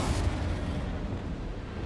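A Bombarda or Confringo spell explosion in Hogwarts Legacy, a fairly faint rumbling boom that starts strong and decays over about two seconds into a dull low roar.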